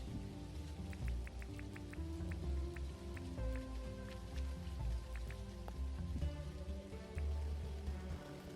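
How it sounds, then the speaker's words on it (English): Rain falls in the video game Dinkum, a steady patter of drops on surfaces with scattered brighter drips over a low, continuous background, and no one speaking. "I forget I can turn the rain off."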